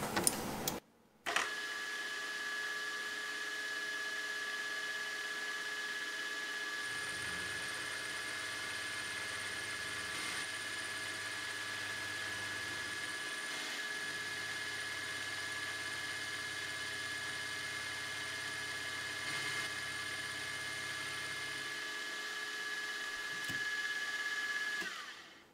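Carbide end mill, 6 mm, making a climb-milling finishing pass with a 0.2 mm step-over, a steady high whine from the spindle and cut over a constant machine hum, with a low motor drone joining midway, running on for over twenty seconds.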